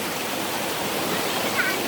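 A steady rush of flowing water from a freshwater spring stream, a continuous broadband hiss that is even and close.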